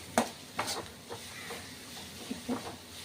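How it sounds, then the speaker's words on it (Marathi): Masala chutney with onion fries in hot oil in a pan, giving a faint sizzle under soft, scraping stirring strokes that come at an uneven rhythm. "तर हे बघू शकता मी आता परतून घेते. याच्यामध्ये तेलामध्ये चांगला मसाला भाजून घ्यायचा"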